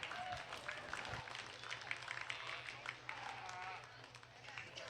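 Audience applause rings out for exhibitors at a breeding sheep show, a steady wash of clapping lasting several seconds, with voices talking over it.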